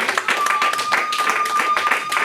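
A church congregation claps together in a dense, sustained burst of applause, with a thin whistle-like tone running through it and voices mixed in.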